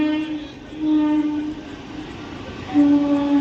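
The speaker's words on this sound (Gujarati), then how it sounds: "અહીંયા એટલી બધી ટ્રેન અવર જવર કરે છે" A train rumbles steadily nearby while its horn sounds in two long, loud blasts separated by a gap.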